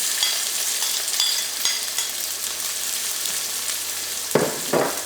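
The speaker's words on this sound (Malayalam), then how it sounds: "ഇനി ഇതിലേക്ക് നമുക്ക് സവോളയും പച്ചമുളകും ചേർക്കാം." Onions and green chilies sizzle in hot oil with cumin in a pan for vegetable dum biryani, a steady frying hiss with light stirring scrapes and a couple of louder clatters near the end.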